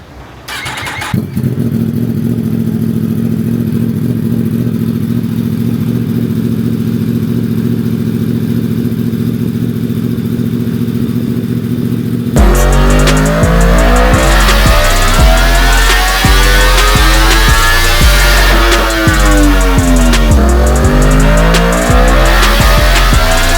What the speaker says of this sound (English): So let me get the bike warmed up again, and get this thing burned up a little bit,